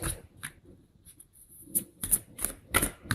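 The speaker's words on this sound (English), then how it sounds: "let's cut the cards here" Tarot cards being cut and handled at a reading table, a few soft papery flicks and slaps, near and fairly quiet, with sharper snaps toward the end.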